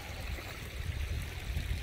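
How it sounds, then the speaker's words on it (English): Open water runs and trickles at the edge of a frozen surface in winter, making a continuous close-up babbling flow with no voices. "this is staying open, obviously, because the water is running"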